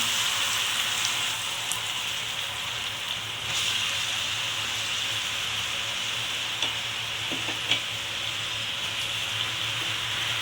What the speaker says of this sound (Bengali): এবার আলু ভাজাগুলো আমি কড়াইয়ের মধ্যে দিয়ে দিচ্ছি